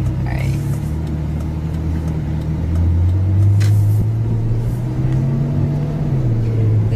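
A Ferrari drives along with a steady low engine hum and rumble that swells gently as it gathers speed, continuous and close from inside the cabin.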